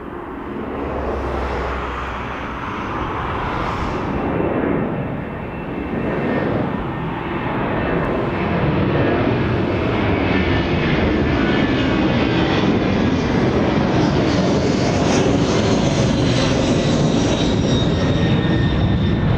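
Older Airbus A300 at East Midlands Airport, a loud sustained jet engine roar with a steady rumbling wash that holds throughout, no voices over it.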